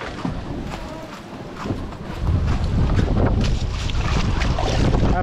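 Strong gusty wind from a storm roars against the microphone over rumbling river water, growing louder and more constant after the first couple of seconds.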